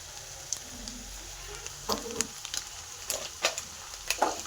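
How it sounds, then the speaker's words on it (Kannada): Onion and brinjal frying together in a pan for vangi bath, a steady soft sizzle with several sharp clicks and scrapes of stirring scattered through. "ಎಲ್ಲ ಒಟ್ಟಿಗೆ ಹಾಕಿನೇ ಫ್ರೈ ಮಾಡಿಬಿಡ್ತೀನಿ"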